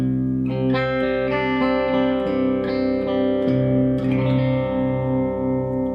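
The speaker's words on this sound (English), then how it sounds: "So this is the clean channel. This is what it sounds like on a bridge humbucker." A clean electric guitar on a bridge humbucker, through the clean channel of an ENGL Savage 120W amp head, rings out chords that sustain and overlap, bright and undistorted, played alone with no voices.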